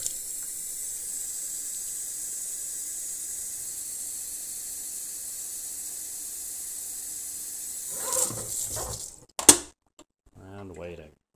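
Hot water runs from a tap into a pouring vessel as a long, steady, faint hiss for about eight seconds. A brief clatter and a short bit of speech follow.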